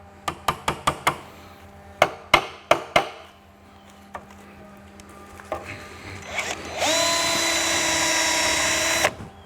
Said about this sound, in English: drill moved over too much